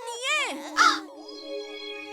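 A cartoon crow's caw, sounded as a sliding, harmonic, voice-like call with a sharp harsh burst in the middle and fainter wavering tones trailing after, likely a voice imitating the crow amid a Hindi kids' cartoon soundtrack.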